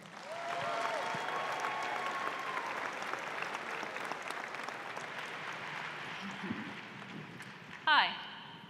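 Faint, distant applause from an audience at a university creative arts showcase runs steadily under talking voices, with a brief louder burst of sound near the end.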